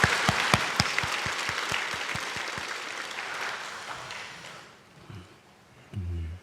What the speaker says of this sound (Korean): 우리 부모님께 또 이 자리에 계신 여러 어르신들께 우리 존경의 마음을 담아서 감사의 박수를 드리도록 하겠습니다.